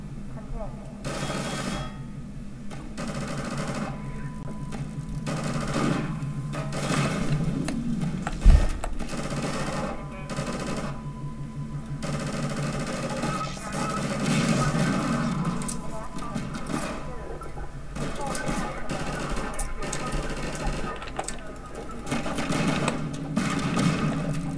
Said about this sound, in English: Like when shooting the machine guns.